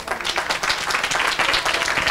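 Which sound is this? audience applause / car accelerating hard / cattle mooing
audience applause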